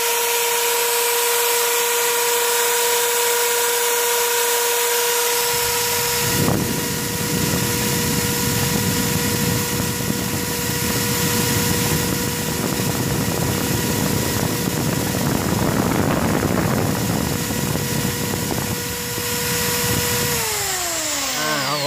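An electric drill, tested against a grid-tie inverter and spinning-disc meter, runs in a loud, steady whine for about fifteen seconds after switching on, then winds down near the end.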